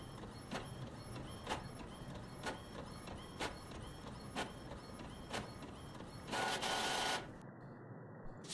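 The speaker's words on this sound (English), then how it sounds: "Thank you, printer." A printer in the horror video game The Mortuary Assistant runs with a steady, rhythmic mechanical clicking and whirring, each pass evenly spaced, then ends in a brief louder burst of feed noise before cutting off.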